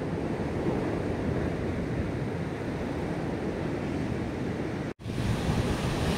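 Sea waves break steadily on the shore of a southern Moroccan fishing coast, a continuous loud wash of surf mixed with wind buffeting the microphone, with a brief dropout near the end.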